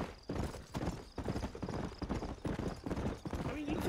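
A horse galloping in Red Dead Redemption, rapid rhythmic hoofbeats pounding close and steady under game dialogue and a rider urging the horse on.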